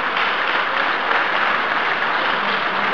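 An audience at a youth football awards ceremony for Lokomotiv Plovdiv applauds the fourth- and fifth-placed players with a loud, even wash of clapping that holds steady throughout.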